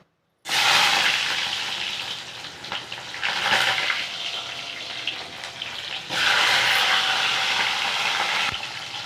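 Mustard seeds, fenugreek and small shallots hit hot oil for a tempering, bursting into a loud, close, hissing sizzle that eases and then surges again near the end. No voices.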